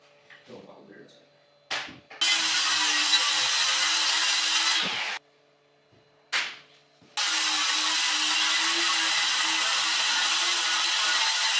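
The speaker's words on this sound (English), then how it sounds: "Now, just gotta cut the plywood to fit." Power saw cutting plywood for a shop bench top, two long loud whining passes with a steady hum, separated by a short pause and preceded by brief handling knocks.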